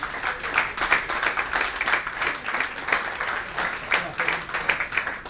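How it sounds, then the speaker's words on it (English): Audience applause at a Hull City Tigers pre-match event welcoming club ambassador Dean Windass, with lively, rhythmic clapping from a sizeable crowd throughout, fairly close and loud. "So please would you welcome, by making some rather generous applause."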